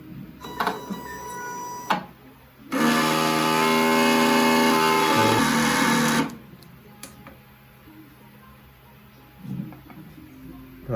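A DX11 XP600 large format printer runs steadily for a few seconds during a manual pump, a loud mechanical whir with a tonal hum. It starts and stops abruptly, with scattered clicks and taps before and after.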